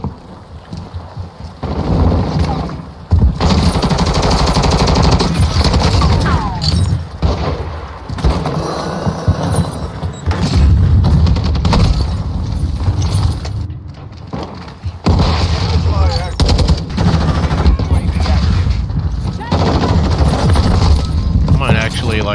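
Sustained assault rifle fire in Call of Duty: MWII, dense and loud, with long continuous bursts, booming impacts and short gaps over about twenty seconds.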